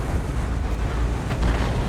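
A tank cannon shot landing a critical hit in World of Tanks, a deep, heavy booming rumble that fills the short moment with low-end energy and no clear sharp onset, loud and close.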